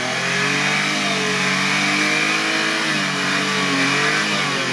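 Car engine revving steadily while the vehicle is maneuvered backward during a recovery, a loud continuous droning rev close by with no talk over it.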